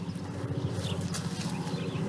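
A horse on a ranch moves with a soft, steady clip-clop of hooves nearby, quiet and continuous with faint background ambience.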